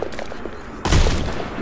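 Video game gunfire: a quiet stretch broken by a sudden loud burst of several rapid shots that rattle on and fade, with no voices.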